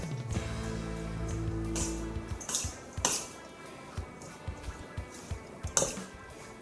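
Homemade gourmet burger mixture being mixed in a bowl, with clinks of utensil against the bowl and soft squishy sounds, irregular and close, no talking.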